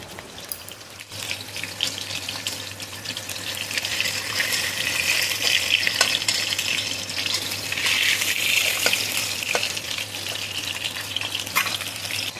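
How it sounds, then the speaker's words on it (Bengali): Pieces of hilsa fish being lightly fried in hot oil, a steady loud sizzle that swells and holds throughout with a low hum beneath and no talking. "তেল গরম হয়ে গেছে, দেখো এখন মাছগুলো ছেড়ে দিচ্ছি। একদম হালকা করে মাছগুলো ভেজে নেব"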